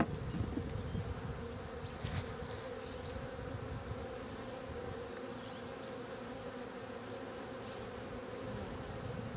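Bees hum in a dense, steady drone inside a hive box holding a caged queen, close and continuous throughout, with a few brief rustles on top.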